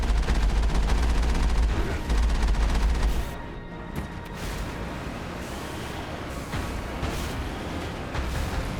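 Sustained machine-gun fire in the sci-fi shooter Mass Effect, a dense, loud rattle of combat that thins out partway through into quieter, scattered shots and background battle noise.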